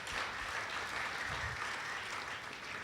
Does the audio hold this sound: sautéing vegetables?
no